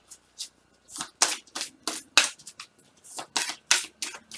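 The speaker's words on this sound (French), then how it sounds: "Je vais tirer toutes les cartes maintenant." Oracle cards from a crystal oracle deck are shuffled and drawn close up, making a string of crisp riffling, flapping bursts in an uneven rhythm, with no talking.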